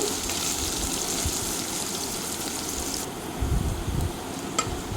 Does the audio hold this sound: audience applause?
no